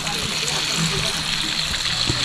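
Spring water running from a tap at a rest post on a Mount Lawu hiking trail via Ceto, a steady rushing flow with faint voices in the background.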